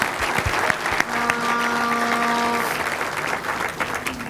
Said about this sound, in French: Ils méritent tous nos applaudissements.